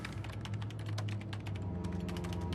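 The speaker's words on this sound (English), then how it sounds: "Stop typing." Rapid typing on a computer keyboard in a home, a dense run of close, crisp key clicks continuing steadily with a low hum beneath.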